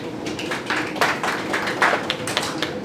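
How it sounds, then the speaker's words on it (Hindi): Audience clapping to welcome a guest onto the stage at a TV serial press conference, a brief patter of scattered claps in a room. "जोरदार तालियों के साथ उनका स्वागत किया जाए।"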